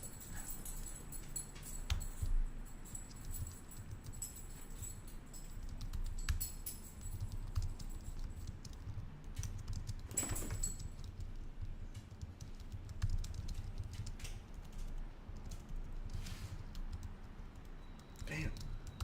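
Fingers type on a computer keyboard in a steady, rapid patter of close, soft clicks that runs throughout, with a muffled low background hum.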